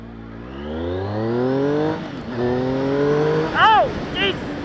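Triumph Speed Triple R motorcycle accelerating hard in sport mode, engine pitch climbing steeply through a gear, a brief dip at the shift, then rising again, loud and close, with short exclamations over the end.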